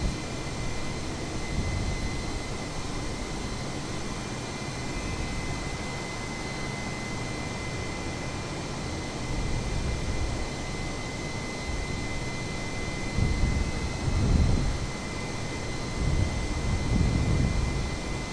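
Steady broadband roar of an A320neo jet airliner's engines while climbing above the clouds in Microsoft Flight Simulator, a continuous cabin-like rumble that swells slightly near the end, with no talking.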